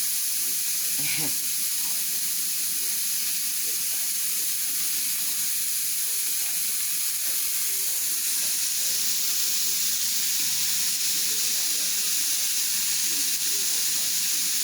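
Beef with taco seasoning browns in a pan before canning, a loud, constant hissing sizzle that runs unbroken throughout with a few small pops and no talking.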